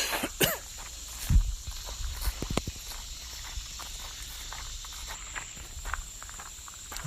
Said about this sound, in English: I gave myself a little break to cough.